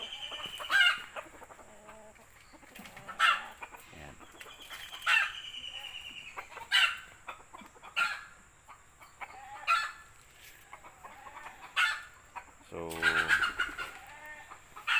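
Free-range Peruvian chickens living in woodland cluck repeatedly in short bursts, close by, and a rooster lets out a loud crow near the end.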